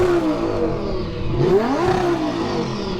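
A Lamborghini Huracan's 5.2-litre V10 revs up once and falls back, a loud close burst of rising and falling engine pitch over a steady idle, with no talk.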